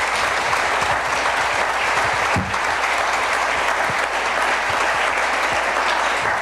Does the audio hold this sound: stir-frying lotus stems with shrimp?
no